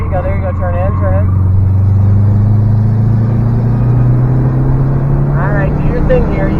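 A 2013 Subaru Impreza WRX engine drones loudly from inside the car on a racetrack, its pitch rising steadily under acceleration, while people talk over it briefly at the start and near the end.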